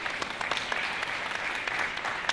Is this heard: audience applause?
yes